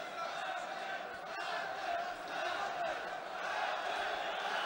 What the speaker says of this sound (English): the Almaty Arena comes alive for the hometown fighter, Boranbayev, cheering him on here in the second round